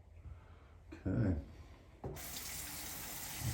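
Tap water running into a sink during a double-edge razor shave, a short splash followed by a steady close gush of flowing water.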